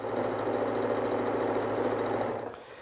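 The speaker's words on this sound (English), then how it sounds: "we will be sewing on an Elna machine, just like I'm sewing on here today" An Elna sewing machine stitches quilt fabric with a smooth, quiet, even whirr that runs steadily at close range and then winds down as the stitching stops near the end.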